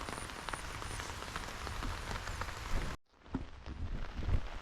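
Heavy rain pours steadily during a rainy fishing outing in Kerala, a dense, loud hiss of drops on surfaces that cuts out for a split second and then resumes just as hard.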